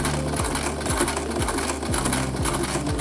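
A sewing machine stitches a button onto fabric with slow, regular back-and-forth passes. Steady close mechanical whirring continues throughout, with a distinct needle stroke roughly every half second and no voices.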